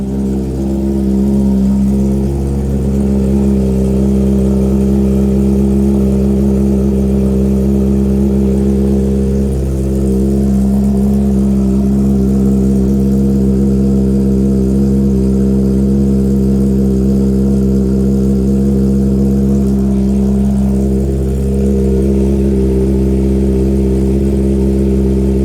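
A motorcycle exhaust on a cold start, from a Honda CB650R, Triumph Trident 660 or Kawasaki, holds a loud, steady, deep idling rumble close by for the whole stretch, with no voices.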